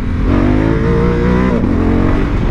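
A 2023 Honda Africa Twin motorcycle engine revs hard in first gear, a loud, steady, close-up roar with a brief dip in pitch midway before climbing again.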